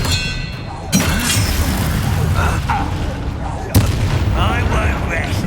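Expelliarmus spell casts in the Hogwarts Legacy video game, two sharp booming blasts about three seconds apart over a steady rumble of combat noise, with a voice speaking underneath.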